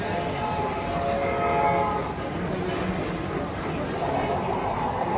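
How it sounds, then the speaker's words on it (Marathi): A train rolls in at a railway platform, a steady loud rumble with a long horn-like tone early on and people talking amid the station din. "एक ट्रेन पण आली आता आपली."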